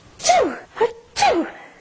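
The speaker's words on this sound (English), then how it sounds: "I may be sneezing a lot during this." A person sneezes three times close up in quick succession, two full sneezes with a short gasp-like one between them, in an otherwise quiet room.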